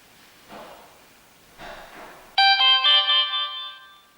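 A Sonim XP3300 Force rugged waterproof cellphone plays its startup ringtone, a bright, loud multi-note chime lasting about a second and a half, following a couple of soft handling rustles.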